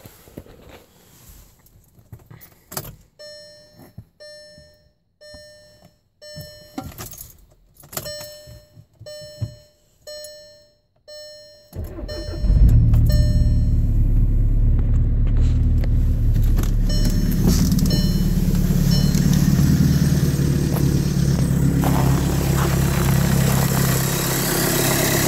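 A 2013 Volkswagen Jetta TDI diesel cold-starts in sub-zero winter weather: first a glow-plug chime and clicks, then the engine cranks and catches into a loud, steady, clattering diesel idle that continues to the end.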